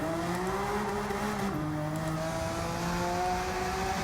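A Subaru BRZ S with a swapped engine in Gran Turismo 7 drones at high revs, pitch climbing, dipping at a gear shift, then rising again, with faint tire noise underneath.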